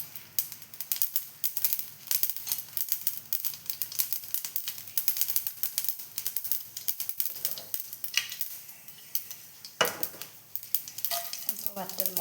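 Mustard seeds pop and crackle in hot oil in a home kitchen pan, quick irregular snaps over a low sizzle, with occasional stirring and a clink of utensils.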